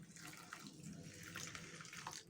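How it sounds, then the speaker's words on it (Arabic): Boiling water pours steadily into a container of sugar, baking soda and dish detergent powder while mixing hibiscus-based liquid dish soap at home, a continuous splashing stream lasting a couple of seconds with no talk. "وهحط ميه مغليه اهي."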